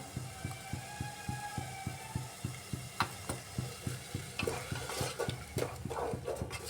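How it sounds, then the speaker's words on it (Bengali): Spice paste is stir-fried in a pressure cooker, with a rhythmic run of spatula scrapes over a continuous sizzle that grows busier and louder toward the end. "এবার আমি কুকারের মধ্যে মশলাটাকে খুব সুন্দর করে কষিয়ে নিচ্ছি"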